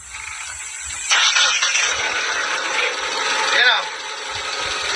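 A car engine with no thermostat and an intact cylinder head gasket cranks and catches, then settles into a steady idle close by while someone speaks briefly over it.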